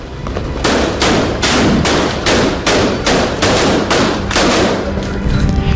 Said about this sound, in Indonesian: Pada malam 31 Desember, warga Cali di Kolombia meluncurkan kembang api